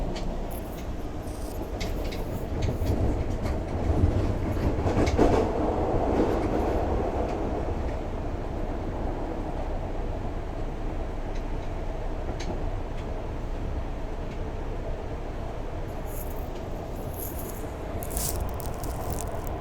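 A subway train rides through a rainy morning with a continuous low rumble, rattling carriage noise and occasional clicks and squeaks, heard from inside the car.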